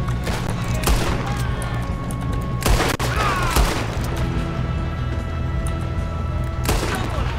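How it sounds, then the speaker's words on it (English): Gunfire crackles in Red Dead Redemption 2 during a train robbery, with loud repeated shots and sharp bursts over a constant battle din, several heavy blasts standing out. "One of you shoot those bastards!"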